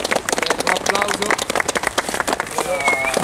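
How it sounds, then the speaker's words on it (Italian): An audience claps backstage at a concert event, steady dense applause mixed with cheering and lively voices talking over it. "Ragazzi, un applauso."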